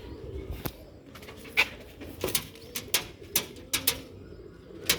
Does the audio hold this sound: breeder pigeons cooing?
yes